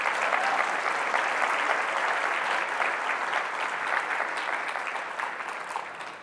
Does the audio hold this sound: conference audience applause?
yes